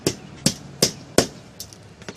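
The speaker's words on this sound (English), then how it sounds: "you put the washer in the nail, it's a fluted nail, and then you take this, you hammer it in that hole" Sharp hammer blows drive a fluted nail fitted with a washer into a hole to secure a starter strip for veneer stone, four evenly spaced loud strikes followed by lighter taps, close and without talk.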